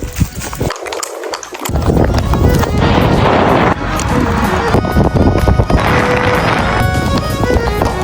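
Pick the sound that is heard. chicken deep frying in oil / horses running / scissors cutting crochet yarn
horses running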